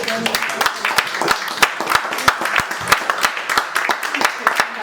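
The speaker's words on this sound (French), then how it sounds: "Est-ce qu'on peut acclamer d'abord le Seigneur?" A church congregation at a Sunday service applauding to acclaim the Lord, dense rhythmic clapping from many hands, lively and sustained at close to mid distance, with no talk over it.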